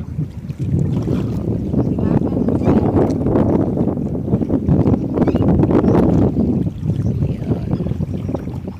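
Wind gusts across open mangrove water, producing loud, buffeting microphone rumble and rustle that rises and falls throughout, with some faint splashing underneath.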